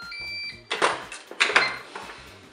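A Cookeo multicooker signals the end of a quick cooking cycle with a steady electronic tone lasting about half a second, followed by a few sharp clattering knocks nearby.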